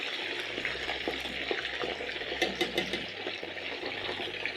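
Potatoes frying in batches in hot oil in a pan, a steady close hiss and crackle with bright sputtering pops throughout, no talking.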